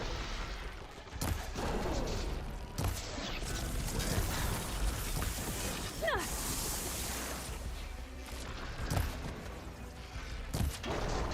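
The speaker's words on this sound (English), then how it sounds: "Hopefully that's enough to fire a few shots from that ballista." Heavy ballista shots fired at a huge worm-like machine in Horizon Forbidden West, several sharp bursts spread through a dense, loud battle mix with rumbling machinery and voices calling out.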